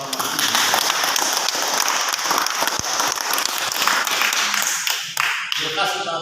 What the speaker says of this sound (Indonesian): Mari kita berikan aplaus bersama.